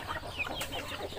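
Bangkok chickens clucking in a coop, a few short close clucks over a steady low background.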